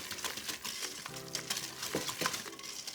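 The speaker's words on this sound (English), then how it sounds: "And I whisk this in to let the sugar dissolve into the pumpkin a little bit." A hand whisk stirs sugar into pumpkin cheesecake filling in a bowl, making a steady, rhythmic scraping and light clinking of metal against the bowl, close and fairly quiet throughout.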